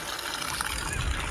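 Water rushes steadily from a borewell pipe driven by a 3 HP submersible motor, a close, continuous gushing splash lasting the whole moment.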